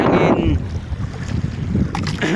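Gusty wind at sea at night buffets the microphone on a moving fishing boat, with a low rushing roar and water sounds.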